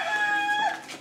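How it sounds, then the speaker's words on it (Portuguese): A rooster crows once at dawn, a short rising and falling call, fairly clear against a quiet background. "o galo já tá cantando"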